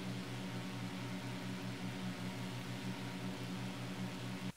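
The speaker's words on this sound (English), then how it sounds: "There is an aircraft that's holding short, jet aircraft" A jet airliner holding short of the runway in Flight Sim World gives off a steady, even engine drone with a low humming tone, unbroken for the whole stretch.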